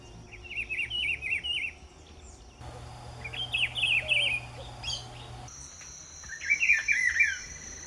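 Repeated bursts of bright, high-pitched birdsong phrases recur against a steady outdoor background of insect and cricket buzzing, with no voices present.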